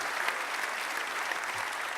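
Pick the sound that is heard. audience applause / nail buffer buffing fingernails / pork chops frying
audience applause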